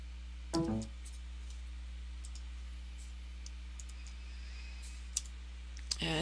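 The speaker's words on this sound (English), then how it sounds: "And again, click and drag." Computer mouse clicking while working in an Excel spreadsheet: a short cluster of quick clicks near the start, then two faint isolated clicks later, over a quiet low electrical hum.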